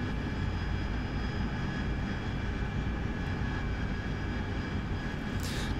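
AV-8B Harrier jet engine in the DCS flight simulator, a steady, even roar with a constant high whine, heard throughout with no talking.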